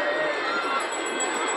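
A dense festival crowd mills around at a Ravan effigy burning, with a continuous wash of overlapping voices and babble, steady and close throughout.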